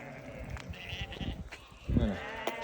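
Sheep bleat as they enter their pen, with a few soft calls and then one loud, close bleat near the end over a quiet outdoor background.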